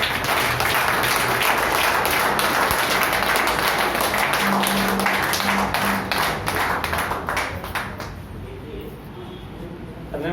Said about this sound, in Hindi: मैं चाहूँगा एक बार ना जोरदार तालियां अपने लिए बजा दें आप